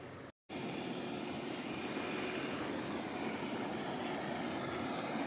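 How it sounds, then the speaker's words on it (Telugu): An old 5 HP farm water pump motor running in a field, giving a loud, steady, continuous drone after a brief dropout at the start, with no voices. "పాతకాలం మోటార్ ఇది గడ్డ మీద మోటార్ బాగా స్పీడ్ పోతుంది"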